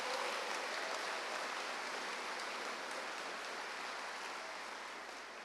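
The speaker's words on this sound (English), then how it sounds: "Can we please give them all a warm round of applause again?" A welcoming-day audience of first-year students applauds university officials, a dense, hissing wash of distant clapping that holds steady and fades slightly toward the end.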